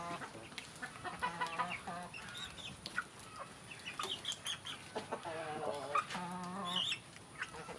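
Cobra naked neck hens cluck and squawk in a yard, with repeated close clucks and calls over a soft background, and a person talking now and then.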